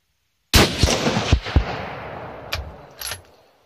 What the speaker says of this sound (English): I'm going to shoot at a different spot.